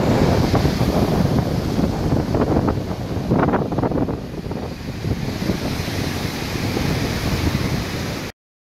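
Rough ocean surf under red flag conditions off a Cancun beach, heavy waves crashing continuously with strong wind buffeting the microphone, loud and steady with no talking.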